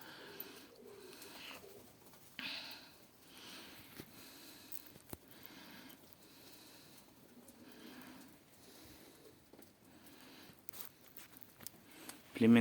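Baku pigeons coo softly in a loft during breeding season, with one pair sitting on eggs, the low murmuring calls repeating under a man's nearby speech and faint rustling.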